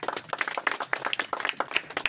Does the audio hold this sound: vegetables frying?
no